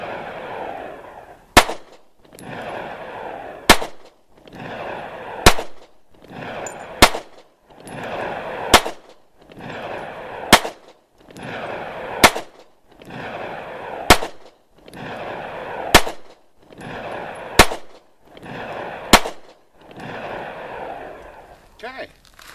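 A Taurus PT111 pistol firing Hornady Critical Defense self-defense rounds, about a dozen sharp, loud shots spaced roughly two seconds apart through one full magazine, each followed by a short echoing tail.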